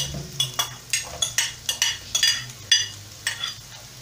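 Chopped onions for beef bhuna hit a hot pan and are stirred, a sizzling bed under a quick run of sharp utensil scrapes and clinks against the metal, close by with no voices.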